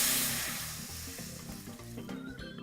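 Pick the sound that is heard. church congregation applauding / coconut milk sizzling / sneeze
coconut milk sizzling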